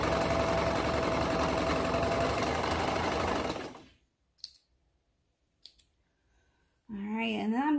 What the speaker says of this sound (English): I'm going to go ahead and just serge the edge here